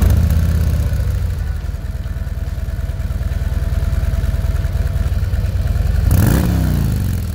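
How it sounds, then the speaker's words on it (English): A 2024 Harley-Davidson Street Glide with its stock exhaust idles with a deep, loping V-twin rumble up close, then a sharp throttle blip near the end brings a rising rev before it settles back. "this bike does sound well above average for a stock exhaust right out of the box"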